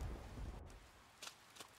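Rain and low thunder from the Persona 4 Golden video game play as a faint, steady hiss, with a deep rumble at the start and a couple of brief crackling bursts later.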